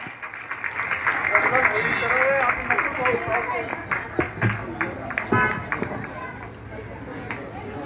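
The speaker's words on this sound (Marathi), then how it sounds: "ठाणे पालघर जिल्हा अध्यक्ष जोरदार टाळ्यांनी स्वागत करावे. जोरदार टाळ्या झाल्या पाहिजे." A crowd at an MNS political rally gives loud, sustained applause to welcome the Thane-Palghar district president, with clapping and cheering mixed with crowd chatter and a voice over a loudspeaker.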